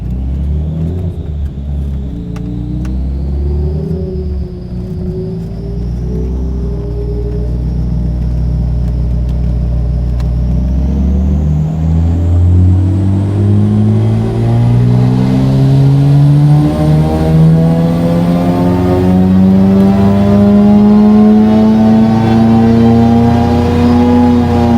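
A car engine at wide open throttle on a chassis dyno during a ramp run, its loud steady roar climbing smoothly in pitch over about twenty-five seconds, close and continuous with no voices.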